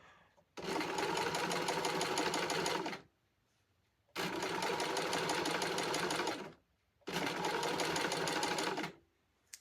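A sewing machine hems stretch fabric in three loud, even bursts of rapid stitching of about two and a half seconds each, separated by short pauses, with no talking.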